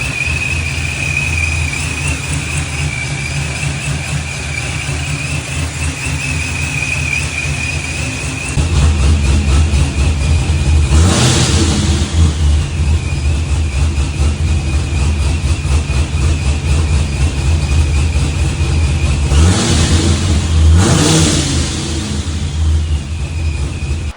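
A ProCharged LSX V8 in a C6Z Corvette with SCE Vulcan fire ring gaskets runs steadily up close, a constant rumbling drone with a high whine riding on top and a few brief throttle blips along the way.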